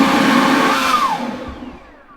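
Kobalt 40 volt leaf blower, model KLB 1040B-03, running at cruise speed, a loud, close, steady airy whir that winds down and fades away toward the end.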